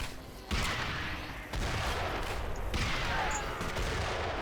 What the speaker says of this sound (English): let's shoot some people with grenades